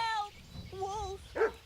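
A dog in the video game Kingdom Come Deliverance gives two drawn-out whining barks, close and fairly loud, followed by a sharp yelp.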